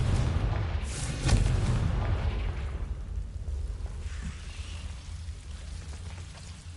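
A deep booming blast from the Confringo spell in Hogwarts Legacy, a loud low rumble that peaks early and then slowly decays into a lingering, fading roar.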